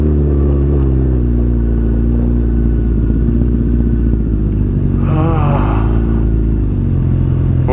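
A Suzuki Hayabusa motorcycle engine rumbles loud and close while riding on a road near the China border, a deep steady drone with a brief rise in revs, and a voice is heard faintly under it.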